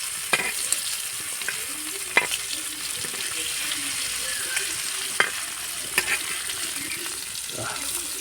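Small pieces of spicy fish fry in oil, giving a continuous crackling sizzle with occasional sharp clicks as a utensil turns them.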